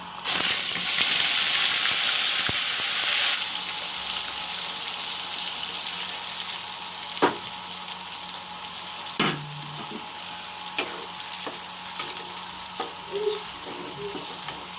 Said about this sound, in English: Now I will let this masala fry